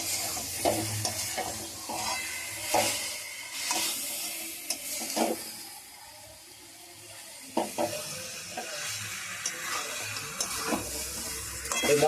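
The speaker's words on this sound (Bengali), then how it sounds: "ভাজা মশলার মধ্যে এই মাংসটা দিয়ে দেওয়া হলো। এবার ভালোভাবে ভাজা মশলার সাথে মাংসটা মাখিয়ে নেব।" Country chicken meat is stirred into fried spices in a pan: sizzling frying under repeated scraping and clattering strokes of the spoon, close and busy, with no voices.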